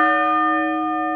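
A cast bronze church bell rings during tuning after metal is machined from its sound bow, holding one steady, clear tone with strong harmonic partials that fades slightly over about a second, with no voices.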